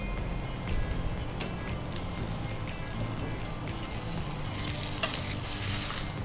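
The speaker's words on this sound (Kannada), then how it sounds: "ಈಗ ಇನ್ನೊಂದು ಕಡೆ ಸಹ ರೋಸ್ಟ್ ಆಗುವಾಗ ಸ್ವಲ್ಪ ಕ್ರಿಸ್ಪಿ ಬರ್ತದ" Jowar flour thalipeeth roasting on a hot pan, a steady close sizzle and fry crackle with faint scraping touches, continuous and moderately quiet, no speech.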